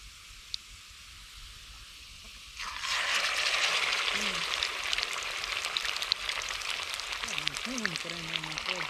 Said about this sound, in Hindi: ये जी अभी साग को तड़का लगा रही है